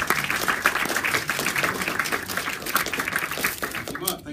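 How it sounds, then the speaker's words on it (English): At the BFI Media Conference, an audience claps to welcome a speaker to the stage, with brisk, fairly close applause that fades out at the end. "give a warm round of applause and welcome him to the stage"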